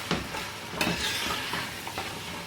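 Mutton frying in a pan with garlic ginger paste, a steady close sizzle with scraping stirs and a few brief clinks, no voices.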